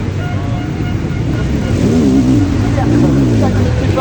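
Racing sidecar motorcycles at a sidecar and motocross event, engines rising and revving in a rough mid-distance roar while a commentator speaks excitedly over the noise.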